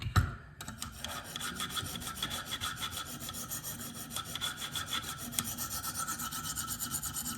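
A Spyderco PM2 knife with an S35VN steel blade is sharpened on a KME sharpener: steady, rhythmic rasping strokes of stone on steel, close and continuous, with no talking.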